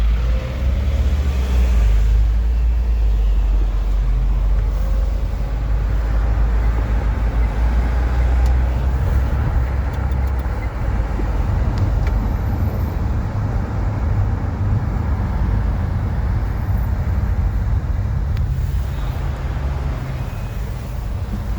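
Dense city car traffic crawling through a Moscow traffic jam near a half-blocked road after an accident, heard from inside a vehicle as a steady, loud low engine and road rumble with no talk.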